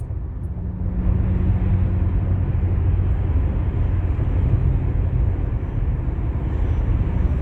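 A lowrider Lincoln Town Car cruises the 405 freeway, its interior filled with a steady, loud rumble of road and engine noise that holds constant throughout with no voices.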